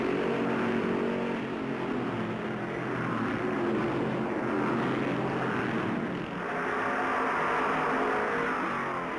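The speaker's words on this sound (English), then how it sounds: "David Pearson, after riding Petty's bumper for 50 miles, stands on the throttle." Stock car engines, including a Dodge, roar at the 1964 Darlington Southern 500 as a continuous dense, loud drone with slight swells across the whole stretch.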